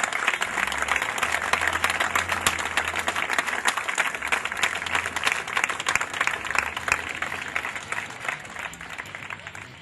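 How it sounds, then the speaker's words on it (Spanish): A large outdoor crowd applauds at Club Atlético Banfield's 115th anniversary celebration in the Plaza del Campeón, a continuous, loud wash of clapping with a low hum underneath. "conocer a un dios llamado Garrafa Sánchez, por el que pido un fuerte aplauso."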